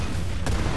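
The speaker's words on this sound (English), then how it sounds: "Explosions!" A short, loud burst of explosion rumble and crackle from the video game Far Cry 5, filling the whole moment with no talking.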